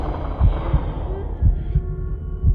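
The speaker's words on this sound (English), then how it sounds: "a really loud heartbeat sound" A loud heartbeat sound effect from the Little Nightmares video game thumps in slow, regular low beats over a dark humming drone.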